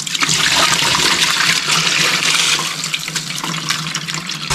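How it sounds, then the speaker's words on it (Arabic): Running water pours steadily over rice being rinsed in a bowl for Indian biryani, a loud continuous rushing splash that fills the clip with no talking. "غنبقاو نغسلو فيه حتى يولي الماء ديالو ابيض صافي"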